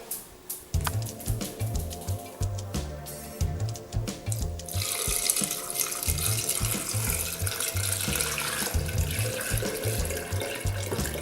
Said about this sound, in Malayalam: ഇനി നമുക്ക് വെള്ളം ഒഴിക്കാം